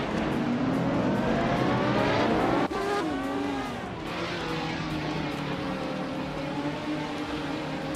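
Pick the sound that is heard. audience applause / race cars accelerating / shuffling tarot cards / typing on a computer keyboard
race cars accelerating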